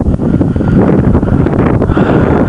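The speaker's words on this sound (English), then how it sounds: "it's pretty damn windy" Strong wind buffets the microphone in a loud, continuous low roar with gusty rustling.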